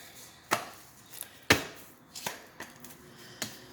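A tarot deck is cut by hand, giving a handful of sharp, close card slaps and taps spaced irregularly over a few seconds, with no talking.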